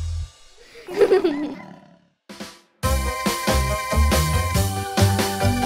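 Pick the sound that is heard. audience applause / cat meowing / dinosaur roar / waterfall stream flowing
dinosaur roar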